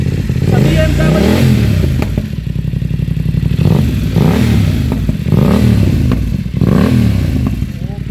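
BMW F900R motorcycle with a Yoshimura exhaust, revved hard several times in quick bursts that rise and fall over a rumbling idle, loud and close, with a voice briefly heard.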